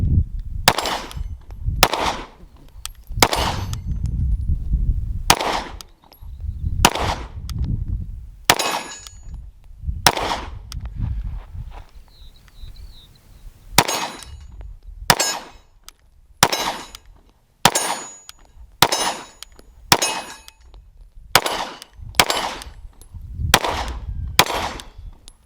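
A Sig P320 pistol with a Gas Pedal fires a 21-round magazine in a steady string of loud, sharp, close shots, each cracking with a ringing tail, briefly pausing midway before the firing resumes.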